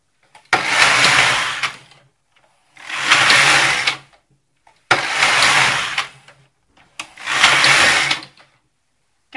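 A Singer double-bed knitting machine runs its carriage across rows in four regular passes of about a second and a half each, separated by short silences. The whirring is loud and close, and no one speaks.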